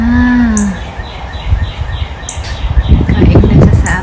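Small birds chirp at a backyard bird feeder with brief, high tweets scattered over steady outdoor background noise and low rumbling thumps.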